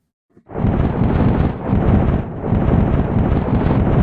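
A lightning strike blasts into Mars in a video game: a loud, sustained thunderous rumble with a sharp crack at onset, rolling continuously and filling the whole moment with no voices.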